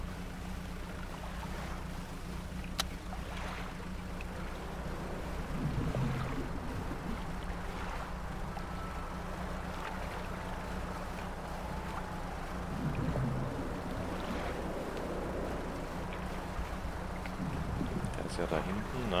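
Boat gliding across open sea in the fishing horror game DREDGE, with a steady low engine hum and lapping water running throughout, brief swells of surf in the middle, and someone speaking over it.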